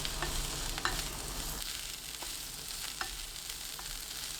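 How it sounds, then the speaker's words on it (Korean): Garlic scapes, minced garlic and peas stir-frying in oil over high heat make a steady, close crackling sizzle, with a few sharp clicks of a utensil against the pan. "팬에 식용유 2큰술, 다진 마늘 반큰술, 마늘종, 완두콩 넣고 센 불로 1분 볶습니다"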